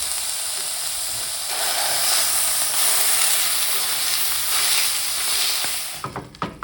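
Lamb browning in olive oil in a heated pan gives a steady, close, bright sizzling hiss that swells slightly midway, with a few clinks at the end and no talking.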